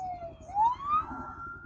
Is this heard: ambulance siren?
yes